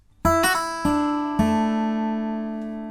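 A few plucked acoustic guitar notes from the intro of a song ring out close and clear, with a quick hammered-on and pulled-off note early, then sustained tones fading slowly.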